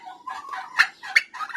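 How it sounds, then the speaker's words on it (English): Pet turkeys gobble and cluck close by in a backyard, a quick run of rattling calls with two sharper bursts, no voices over them. "They're the smartest turkeys I have."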